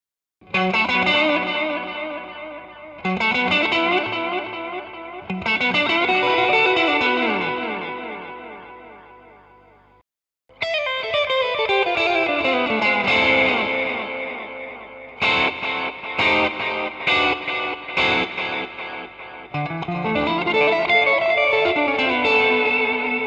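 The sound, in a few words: NUX NDD-7 tape echo pedal with saturated, distorted repeats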